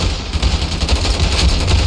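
Sustained rapid gunfire from the video game Ravenfield during an urban beach-landing battle in a Japanese city, a dense continuous rattle of shots at steady loudness with no pauses.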